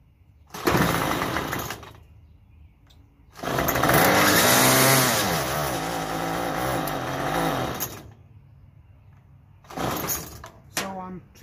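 A Troy-Bilt TB32EC 2-cycle engine revs in loud, buzzing bursts that rise and fall, then dies away between short runs, stalling repeatedly with quiet gaps.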